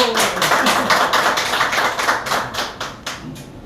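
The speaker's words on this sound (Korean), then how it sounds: "자, 박수! 박수!" An audience claps at the opening ceremony of a vocal music academy. The clapping is close and lively, with many hands settling into distinct rhythmic beats that grow sparser near the end.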